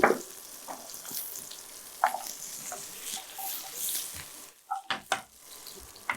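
Ginger and garlic sautéing in a pan for pepper paneer masala, a soft steady sizzle with intermittent stirring clicks and a few sharper scrapes near the end, heard close and alone.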